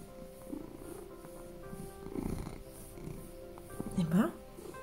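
A cat purrs softly and continuously close by, with people talking quietly over it.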